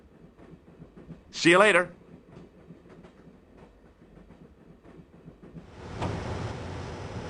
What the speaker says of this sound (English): I'm going to climb on top of the train.